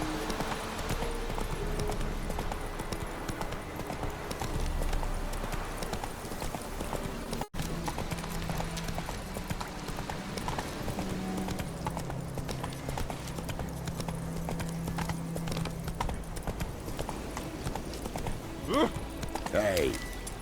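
The horse Roach galloping in the video game The Witcher 3: a rapid, steady clip-clop of hooves running continuously under game sounds and ambience, with brief spoken lines.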